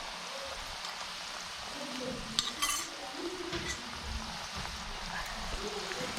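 Jackfruit bulbs frying in hot oil in a Konkan home kitchen, a steady close sizzle broken by a few sharp scrapes and clinks of stirring, with no talk.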